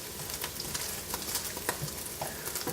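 Quiet, steady sizzle and crackle of bacon chunks frying in a pot for gumbo, with scattered pops and light stirring taps.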